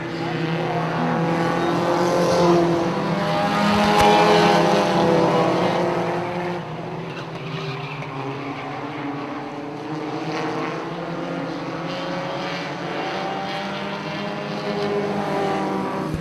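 Pro4 race cars lap Punta Gorda Speedway in a loud, continuous roar, several engines layering rising and falling pitch as they pass, with faint talk underneath.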